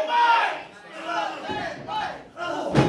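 Wrestling crowd at an IWE BattleZone event chanting and cheering to rally Stuntman Mike: loud, rhythmic massed voices in a repeated chant, swelling and dipping in phrases, with a sharp slam near the end.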